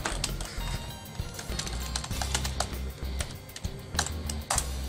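Rapid, irregular clicking of keys being typed on a full-size keyboard used with a Lenovo IdeaTab A1000 tablet, close up and fairly quiet, with a few louder taps.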